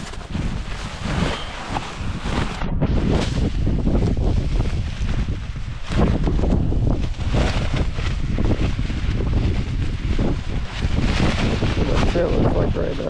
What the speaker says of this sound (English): There's just too much wind.